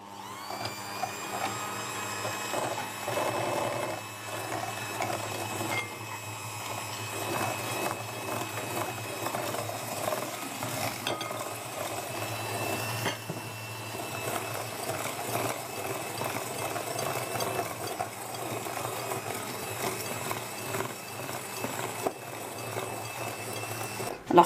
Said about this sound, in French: on va fouetter les jaunes d'œuf avec le sucre jusqu'à avoir un mélange bien blanchâtre